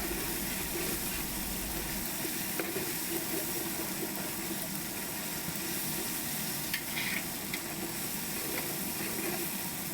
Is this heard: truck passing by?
no